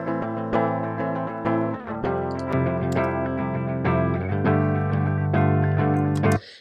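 A clean, dry electric guitar signal plays a chord-based phrase alone in Logic Pro 9, with strummed chords and single notes ringing steadily at moderate volume.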